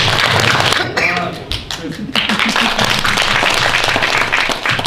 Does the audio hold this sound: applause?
yes